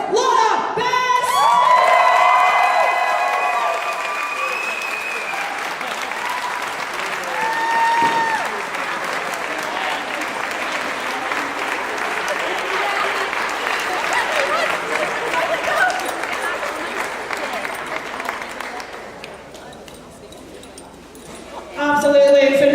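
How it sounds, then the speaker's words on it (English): A crowd gives sustained applause and cheers for the top three women lifters at the 2023 Scottish Powerlifting Classic Championships. The clapping is dense and close, an announcer's voice carries over it, and it fades toward the end before a brief final burst. "Give a round of applause to our top 3 ladies lifters in the Scottish Championships"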